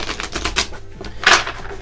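A deck of tarot-style reading cards being shuffled, giving a quick run of soft papery riffles and taps, close and fairly loud, with no talking.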